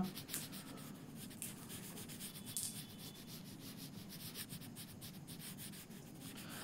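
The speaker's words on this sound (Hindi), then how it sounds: "तो देखिए अब यहाँ पर लिख देते हैं" Chalk or marker strokes rub steadily across a classroom board, a continuous scratchy scraping with small rhythmic bursts as letters are written, close and alone without talk.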